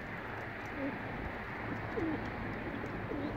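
Pigeons cooing inside a pigeon coop, several soft low coos repeating over a steady background hum, fairly faint and close.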